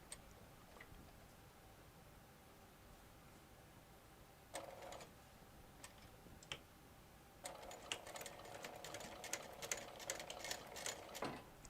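A sewing machine top stitches a quarter-inch seam across the end of a crossbody bag. A short burst of stitching is followed by a longer, steady whirring run that holds close and clear, with no talking.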